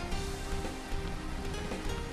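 Steady rain falls in the video game Atelier Firis, played on a PlayStation 4 Pro: a dense, even hiss of drops that holds for the whole stretch without voices.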